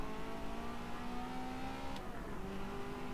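A Ferrari engine in Forza Motorsport 7 revs steadily at mid volume with a faint exhaust crackle, the tone holding and then shifting pitch briefly near the end.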